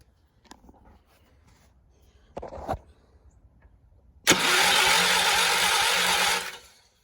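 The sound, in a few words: tractor engine cranking with starter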